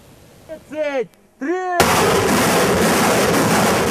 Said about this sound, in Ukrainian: Це українські артилеристи змагаються за звання найкращої батареї